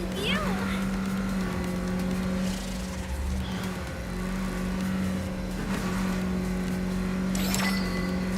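Car engine in the Neverness to Everness video game, a steady sustained drone with a low hum, mid-range tones and a revving rise near the end, running continuously while a voice talks over it.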